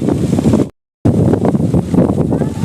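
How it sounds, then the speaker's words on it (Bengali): Strong wind blows steadily across an outdoor tourist spot, a loud broadband rush buffeting the microphone, broken by a short silent gap before the gusting roar resumes. "অনেক বাতাস এখানে।"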